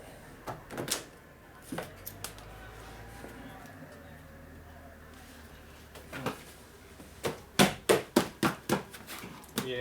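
A tight-fitting sliding door in a workshop is worked back and forth, with scraping rumbles and a series of sharp knocks and bangs that grow louder toward the end, close by.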